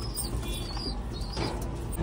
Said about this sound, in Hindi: ये तारा कबूतर है, इसकी सफेद चोंच है, सफेद आंख है, पूरा व्हाइट कबूतर है